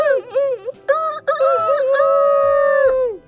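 A voice imitates a chicken with a sequence of warbling, crowing-like calls, ending in a long sustained drawn-out cry; loud and close, no other sound.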